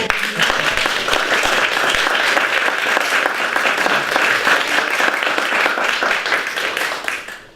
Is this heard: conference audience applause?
yes